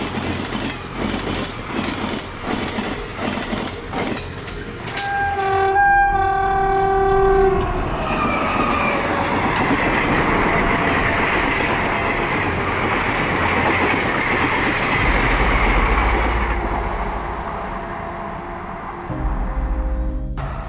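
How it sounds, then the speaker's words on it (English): A loud train horn sounds in several long blasts, then a train in India rumbles past close by with steady clattering wheels that fade near the end. "When you hear this horn, you can also gauge the speed at which the train is running."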